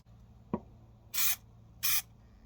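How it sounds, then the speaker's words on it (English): Two short hissing bursts of an aerosol protective coating sprayed onto a copper blade spinner, close and distinct, preceded by a small click. "That's it, just a quick spray."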